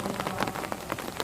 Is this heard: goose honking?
no